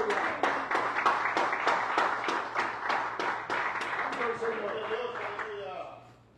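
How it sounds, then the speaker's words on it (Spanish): Church congregation clapping rhythmically in praise during a Spanish-language evangelical service, a steady beat of many hands together with voices over it, fading out toward the end. "ahí puesto en su asiento le damos palmas de alabanza al Señor"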